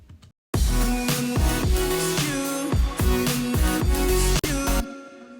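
Second part of an electronic dance drop for a track, with dense synths and punchy rhythmic hits in a steady beat, loud and continuous after a short quiet start, then a sudden stop near the end.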